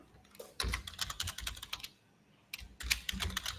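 Quick bursts of computer keyboard typing as code is written for a Flutter app, close and clear, in two runs separated by a brief pause.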